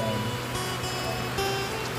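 Rain falls steadily in a hiss that stays constant, with a faint low hum and brief tonal sounds beneath it.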